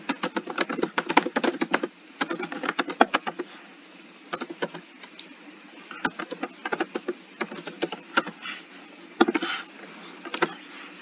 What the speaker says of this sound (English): I can't type to save my life.